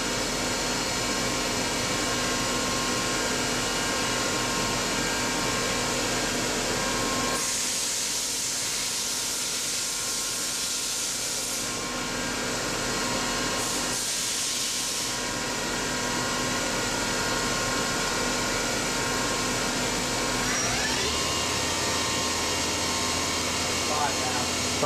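A Daewoo DMV-3016 machine spindle running at high RPM gives a steady, loud whine and hum with airy hiss, and its pitch shifts near the end as the speed changes.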